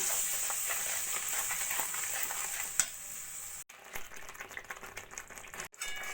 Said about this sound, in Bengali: একটু লো ফ্লেমেই আমি মশলাটাকে কষিয়ে নিচ্ছি